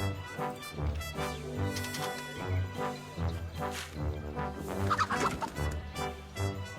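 A chicken clucks in a Wallace and Gromit adventure game, with short, repeated bird calls over a rhythmic low musical backing at a moderate level.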